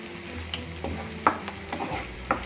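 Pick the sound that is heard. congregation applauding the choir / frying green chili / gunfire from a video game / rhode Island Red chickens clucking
frying green chili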